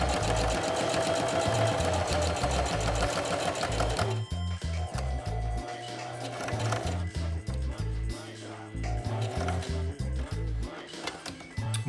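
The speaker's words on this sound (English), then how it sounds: "Sorry about the noise of the sewing machine." A sewing machine stitches fabric pieces for a homemade surgical mask, its needle hammering in a fast, steady mechanical rhythm that pauses briefly and restarts, loud and close with no talk.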